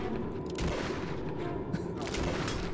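Gunfire in the horror video game Dementium II HD comes as a dense, harsh burst of noise with a few sharper cracks, sustained throughout at moderate level.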